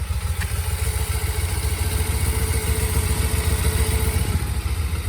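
A two-cylinder Suzuki GS500E motorcycle engine idles steadily up close, with a low, even rumble and a light mechanical clatter throughout.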